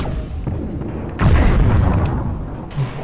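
A heavy, booming explosion in Hexen played in GZDoom bursts out suddenly, followed by a rumbling tail and a smaller thump, all over steady game noise.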